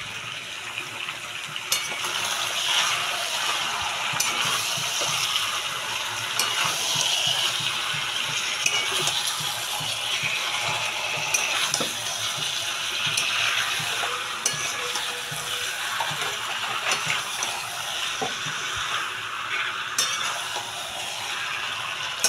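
Chicken pieces with garlic sauté slowly in a hot pan for a curry, giving a steady, close sizzle and hiss that runs throughout, broken by occasional scrapes and clicks of stirring; no voices.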